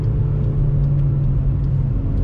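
A Volkswagen Jetta five-cylinder with a straight-pipe exhaust holds a low, steady rumbling drone, heard from inside the car, constant and loud without clear rev spikes.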